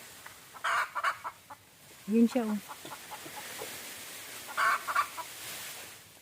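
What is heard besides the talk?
chicken clucking in a banana tree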